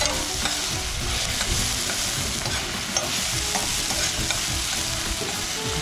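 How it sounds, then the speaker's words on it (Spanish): Onion and tomato cooking in a hot pan, a loud, continuous sizzle with constant stirring and scraping of the pan, close up, and no voices. "Un poquito de tomate. Esperamos que se dore un poquito la cebolla."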